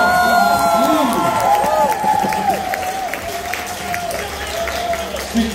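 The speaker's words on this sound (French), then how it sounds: "on peut leur donner une bonne d'applaudissements" Guests at an outdoor urban catering event for chefs clap, cheer and whoop together. Lively, close applause mixes with shouting voices that gradually settle.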